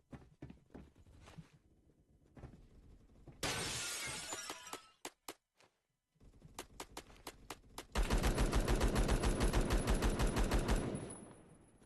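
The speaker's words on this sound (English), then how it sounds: "Oh, that's a scary nade." Phantom Forces gameplay with a grenade blast amid rattling rapid gunfire, shattering bursts and dense automatic fire, loud and close, with a brief silence between volleys.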